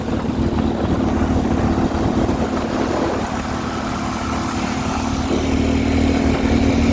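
A small mini go-kart engine runs steadily on a trail, a loud, rough, continuous drone that sags slightly midway as it bogs down, with no talking over it.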